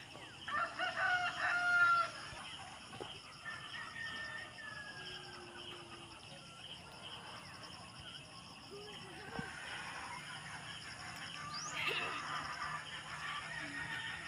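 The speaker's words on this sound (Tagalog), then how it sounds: "Pag umaga, nag-iingay yung mga manok." Roosters crow and hens cluck at a distance on a farm, with quiet talk and faint background noise throughout.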